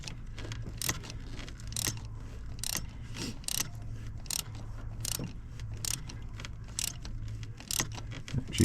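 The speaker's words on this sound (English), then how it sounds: "I think we're just cleaning up the threads that were damaged here." Metal tool working through damaged spark plug threads in the cylinder head of a 2005 Ford F-150, giving repeated light scraping and clicking strokes in a steady rhythm over a low background hum, with no talk.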